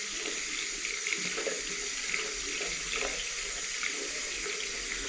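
Hot water runs steadily from a tap into a sink, a continuous broadband splashing hiss at moderate level with no voices, as the flow settles after waiting for the heat to come through.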